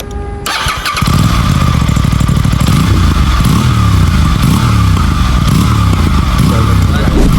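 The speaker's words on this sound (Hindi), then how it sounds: "तो आइए सुनते हैं एग्जॉस्ट नोट।" An Aprilia RS457 sport motorcycle with its stock underbelly exhaust fires up and revs hard, giving a loud, close, throbbing exhaust note with rapid rises and falls after a brief start.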